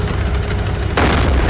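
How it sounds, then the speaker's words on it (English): A loud, sudden broadband blast from the 1987 war film Full Metal Jacket slams in about a second in, sustaining a dense roar over a rumbling low-end bed. "Oh, look, the real explosion."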